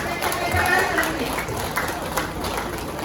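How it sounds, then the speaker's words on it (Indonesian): Applause from the audience at a talk on language and cultural advancement, a short burst of scattered clapping mixed with crowd chatter and some nearby voices, fairly loud and brief. "Tepuk tangan untuk kita semua."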